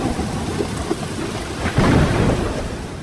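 Steady heavy rain pours alongside a low rumble of thunder that swells partway through, filling the space with a constant wash and no voices.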